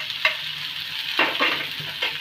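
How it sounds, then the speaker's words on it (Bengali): Chopped onion stirred in hot oil in a home kitchen, a steady close sizzle broken by a few sharper scraping stirs of the spoon, with no talking. "পেঁয়াজটাকে আমি একটু হালকা নেড়ে নেব।"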